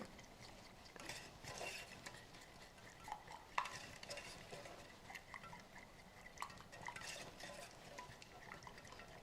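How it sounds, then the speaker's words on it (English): A spoon stirs red pepper puree and sugar for panna cotta in a bowl, giving faint, soft scraping and liquid swishing with a few small clinks, steady and close with no talk. "I give it a last stir"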